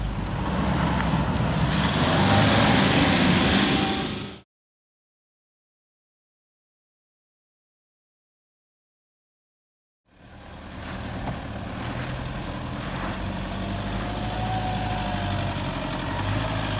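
A Toyota Prado Kakadu 4WD engine drones and idles off-road, a low, steady rumble with wind noise, cut by a stretch of total silence midway before the engine sound resumes.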